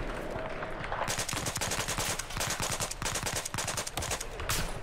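Rapid automatic gunfire in Battlefield 4 rattles out in dense, close bursts, with a brief pause and then more sustained shots, loud throughout.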